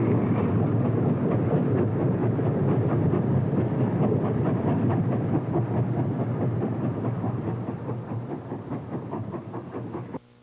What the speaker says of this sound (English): number 212 steams through Abbeys at night with train number 4.